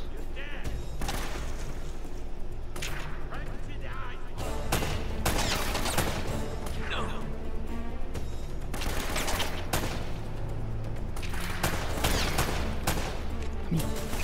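Dense gunfire from the Uncharted video game, with rapid bursts and heavy volleys overlapping almost without pause for the whole stretch. Voices break in now and then under the shooting.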